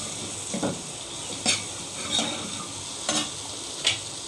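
Taro root curry with spices sizzles steadily in a pan while a spoon stirs it, giving soft scraping strokes at an irregular pace over the continuous frying hiss.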